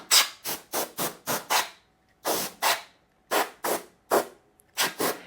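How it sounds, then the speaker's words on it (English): Canned air sprays in short hissing bursts while a Cricut cutting machine is cleaned, about a dozen close, loud blasts in quick clusters with brief silent gaps between them. "Since it is just canned air, we do want to be careful with this"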